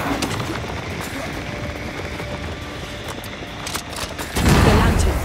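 A loud gun blast near the end, fired at a lantern in Banishers: Ghosts of New Eden, after a few seconds of steady in-game ambience.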